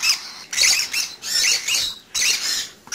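A baby pet bird squawks for food, giving loud, harsh, close calls in quick repeated bursts with short gaps between them and no talking.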